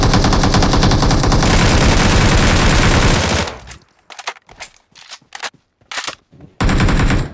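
Video game gunfire during an aggressive squad rush: a loud, sustained machine-gun burst for about three seconds, then a string of separate single shots with short silences between them.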